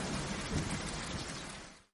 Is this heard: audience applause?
no